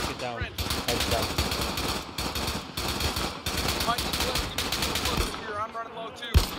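Rapid machine gun fire from a World War II video game set in North Africa rattles in long, loud bursts that nearly fill the clip, with brief gaps and voices faintly underneath.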